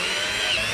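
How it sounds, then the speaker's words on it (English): A power drill whines steadily and loudly in a brief, continuous burst, used to fix a fuse box in place while converting a Peugeot Boxer L2H2 van into a campervan. "I'm just going to go ahead and grab my drill."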